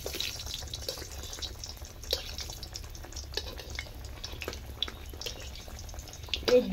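Moong dal masala paratha frying in hot oil, a steady soft sizzle and crackle with scattered pops, fairly quiet and continuous, with no talk.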